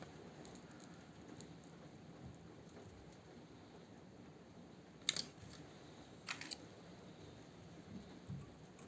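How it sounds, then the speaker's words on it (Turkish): Steady rain patters in the background while soft, distant rumbles of thunder roll through, with a few faint clicks and knocks nearby. "Arkadaşlar dışarıda da çok güzel bir yağmur var. Gök gürültülü."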